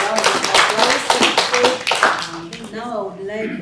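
A conference audience gives a round of applause, rapid close clapping that fades away as a voice starts speaking over the last of it.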